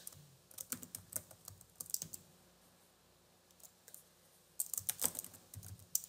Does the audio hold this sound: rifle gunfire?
no